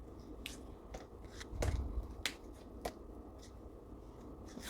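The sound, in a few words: shuffling a deck of tarot cards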